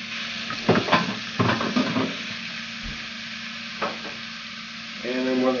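Shrimp cooking in a pan with grated carrot for Szechuan shrimp, a steady background sizzle with several loud clattering stirs and scrapes early on, then a quieter hiss, a single knock and a final swell of frying.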